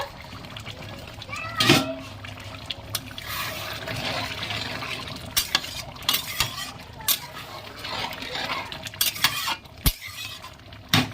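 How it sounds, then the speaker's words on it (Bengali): Chicken curry meat is stirred in a pot, a spoon scraping and clinking against the metal in scattered bursts with soft wet sizzling beneath, fairly quiet and close. "এবারে মাংসটা আগলা করে একটু নাড়িয়ে নেব"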